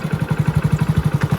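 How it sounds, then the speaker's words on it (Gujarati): Ninja motorcycle riding over a bad, pothole-filled road: a close, loud, rapid regular engine pulse throbbing steadily, with a brief clatter near the end. "આપણે બાઇક લઈને નીકળી ગયા છે અને એટલા બધા ખરાબ રસ્તાઓ છે"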